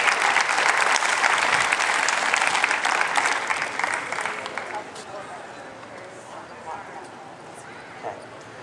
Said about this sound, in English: Let's give a massive round of applause this morning.